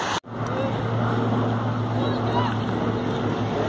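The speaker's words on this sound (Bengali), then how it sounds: "লঞ্চটা যতটা ঢেউ মারছে নৌকোটা অতটা হচ্ছে না।" A motor launch passes on the Ganges at high tide and churns up waves, heard as a steady, near engine drone over broad rushing water and wind noise after a brief dip at the start.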